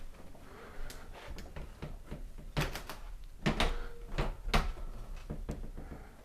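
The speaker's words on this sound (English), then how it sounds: "I can't open that door without trying too hard" A stiff door in a house in Northern Virginia being forced, giving rattling knocks, thuds and scraping over several seconds, with no voices.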